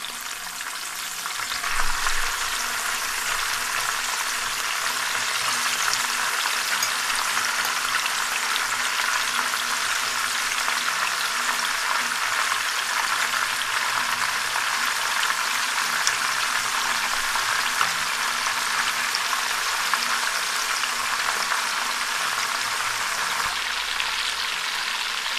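Fish pieces deep frying in hot oil, restaurant-style crispy fry, with a loud, steady crackling sizzle that runs almost unbroken throughout and no voices.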